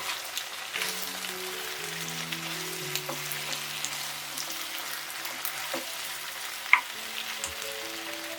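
Sweet and sour chicken wings, glazed and tossed with chopped coriander, red chilies and a cinnamon stick, sizzle steadily in a pan while being stirred, a soft continuous frying crackle with light scraping taps and faint background music.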